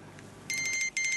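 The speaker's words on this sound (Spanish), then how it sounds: "Uy, la alarma." An alarm sounds twice in short bursts of a bright, warbling electronic tone, loud and close, with a brief gap between the bursts and a quiet room beforehand.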